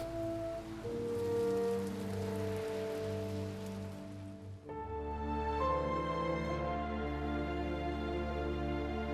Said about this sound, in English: And we have some Heavy Rain, finally.